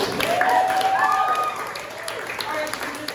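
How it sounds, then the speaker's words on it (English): An audience claps after a theatre performance, a short burst of applause that thins out within a few seconds, with a voice speaking over it. "round of applause"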